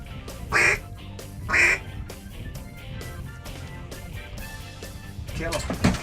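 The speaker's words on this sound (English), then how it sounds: "watching Ducky work and watching Jared work the call" A duck call blown during a duck hunt gives two short, nasal quacking bursts early on, followed by a steady rumble of wind and movement with people talking over it.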